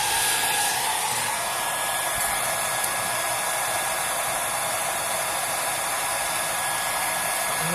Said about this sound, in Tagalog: kailangan natin painitin muna to ng ito, hair dryer